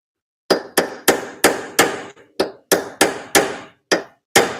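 Metal hammer taps drive a bolt into a Mazda Miata roll bar's harness bar, about a dozen sharp, ringing strikes in a steady rhythm with a short pause midway, close and loud, no talking.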